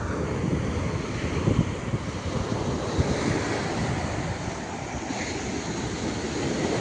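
Steady roar of ocean surf breaking continuously, with gusty wind buffeting the microphone throughout; no voices.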